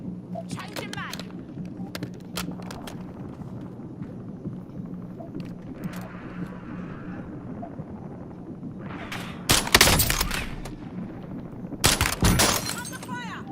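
Video game gunfire during a squad firefight: a steady low rumble with scattered short cracks, then two loud bursts of shots close up, with faint voices in the background.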